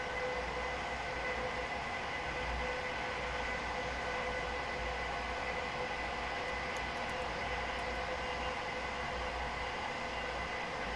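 A Class 745 FLIRT electric multiple unit in Train Simulator Classic runs at speed, giving a steady, continuous whirring rail drone with a low rumble beneath that stays even the whole time and has no talking over it.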